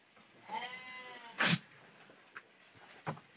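A prize-winning Batur sheep in a pen gives a single bleat, followed by a sharp snort and a few fainter short snuffles, close by in a quiet setting.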